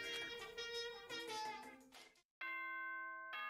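A bright, electronic ding-dong announcement chime from the video game Danganronpa Trigger Happy Havoc rings out over game music, then a brief silence, followed by sustained sustained bell-like tones, loud and clear.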